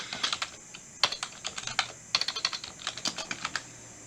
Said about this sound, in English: Type in your address and you'll find the address that corresponds.